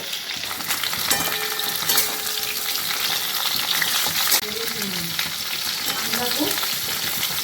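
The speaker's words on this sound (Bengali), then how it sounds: "ভাপিয়ে নিয়ে এখন সাদা তেলে ভাজা হচ্ছে" Vigorous sizzling of steamed cauliflower frying in white oil, with clinks and scrapes of stirring and a faint voice-like warble in the background.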